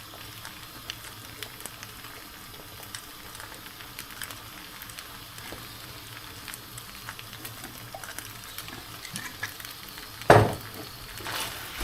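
Leftovers stir-fry in a pan with oyster sauce, giving a low, steady sizzle with occasional light scrapes, and one sharp clatter of utensil on pan near the end.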